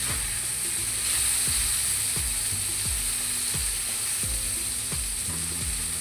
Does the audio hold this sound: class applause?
no